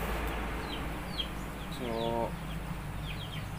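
Backyard game fowl chickens give low clucks and a short drawn-out call amid faint chirps from other birds, with someone speaking briefly over them.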